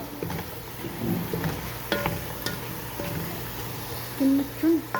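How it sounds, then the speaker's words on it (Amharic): Potatoes fry in a pan with carrots and onion, a soft steady sizzle under light stirring and occasional scrapes and clinks of a utensil, with a few brief tonal sounds near the end. "ድንቹን በደንብ እንጠብሰውና"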